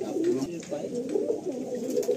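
Pigeons in a loft at Barasat: soft, repeated throaty cooing close by, rising and falling in short rolling phrases over a quiet background.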